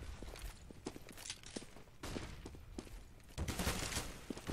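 Gunfire in the game Counter-Strike on the de_inferno map during a competitive match, sharp bursts and single shots scattered among footsteps, with a dense volley of fire toward the end.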